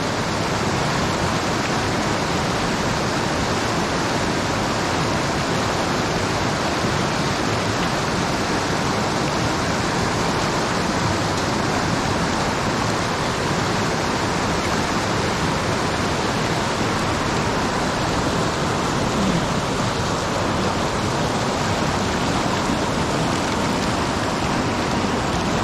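River cascades rush in a loud, steady, broadband roar of churning water that stays constant throughout with no breaks.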